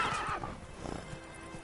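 Roach, a horse in The Witcher 3, whinnies loudly up close, followed by a few soft, muffled hoof clops under faint game ambience.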